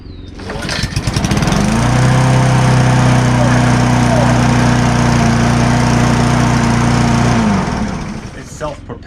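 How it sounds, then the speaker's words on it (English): A self-propelled lawn mower engine starts up, runs at a loud, steady drone for several seconds nearby, then winds down and stops. "Let's see if it works now. I think I got to put gas in it, but let me go. It's loud."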